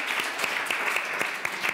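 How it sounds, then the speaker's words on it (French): A small audience at a women-in-film roundtable applauds a panelist, steady moderate clapping with a few sharper individual claps standing out. "On peut l'applaudir."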